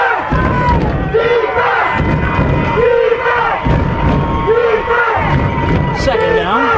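A Bills football crowd at a championship game chants its defense chant, a loud, rhythmic roar of many voices rising and falling in repeated bursts, with thumping beats and commentary-like voices over the top.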